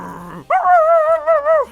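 A Minecraft dog growls in a loud, sustained, wavering snarl lasting about a second, preceded by a short softer burst of game noise.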